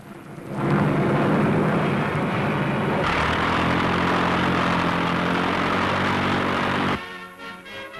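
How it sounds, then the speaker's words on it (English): A four-engined Soviet Red Air Force bomber lands in the north of Britain, its loud, steady propeller roar filling the air, swelling and then shifting in tone before it cuts down and fades near the end. "The four-engined bomber of the Red Air Force that brought Mr. Molotov to Britain landed"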